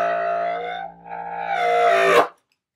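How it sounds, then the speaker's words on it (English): Bass clarinet sustaining a low note that shifts pitch once, with a reedy, buzzing tone that swells louder before cutting off abruptly, played alone and close with no talking. "Also play the big bass clarinet, and it can play some very low sounds."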